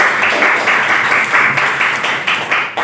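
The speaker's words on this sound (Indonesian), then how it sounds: "kita beri tepuk tangan untuk kelompoknya." A class applauds a presenting student group, with loud, dense clapping from many hands that holds steady with slight rhythmic surges and then begins to thin near the end.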